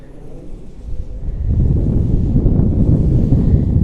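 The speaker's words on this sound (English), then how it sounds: "I think that's the wind starting to pick up." Wind gusting across open moorland at Whitelee windfarm, a low broadband rush that picks up sharply partway through and stays loud and steady, buffeting close to the microphone.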